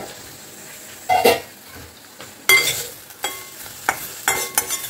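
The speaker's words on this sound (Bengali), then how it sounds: "এটা যেহেতু ভাজা হবে তাই জন্য ঢাকা দিয়ে দিয়ে ভাজা করব" Fish frying in a covered pan, with a faint steady sizzle broken by several loud clanks and scrapes of a lid or spatula on metal.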